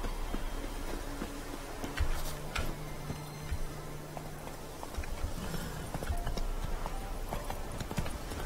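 A horse's hooves clip-clop at a walking rhythm in The Witcher 3 game, steady, moderately close knocks over a soft ambient background with faint tonal game sounds.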